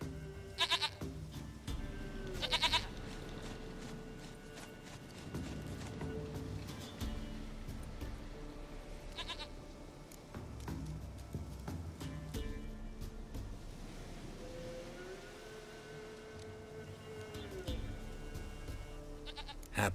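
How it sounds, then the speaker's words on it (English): A goat in The Witcher 3 lets out several loud, nasal bleats, two early and one midway, over a quieter background with a voice talking in between. "Goat of mine, dearest, sweetest goat."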